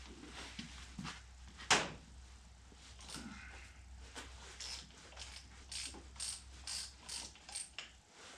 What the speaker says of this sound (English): then we're just going to take our ratchet and remove our filter